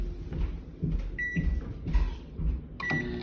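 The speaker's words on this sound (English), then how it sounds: "And microwave for about 30 seconds." A kitchen microwave oven melting coconut oil in a microwave-safe container: short electronic beeps as it is set, then a low steady running hum, quiet and close.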